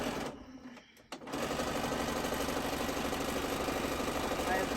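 A sewing machine fitted with a free motion foot runs at a fast, steady stitching rhythm, pausing briefly near the start before whirring on continuously and loudly to the end.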